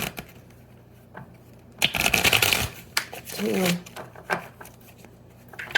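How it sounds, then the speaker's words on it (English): Tarot cards are riffled and shuffled in a couple of quick bursts, with quiet handling noises between them. "we're going to do 2 more shuffles"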